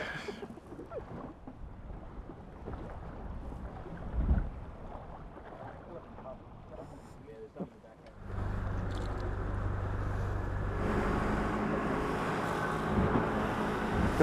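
Steady wind rushing over a drifting fishing boat off Coffs Harbour, a softer gusty stretch giving way to a louder, constant roar halfway through, with occasional knocks and no talk.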